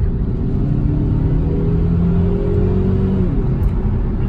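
A turbocharged 2006 Saab 9-5 engine, flood-damaged and with faulty mass airflow sensors, revs close up, its rising whine and rumble climbing steadily before the pitch drops off near the end.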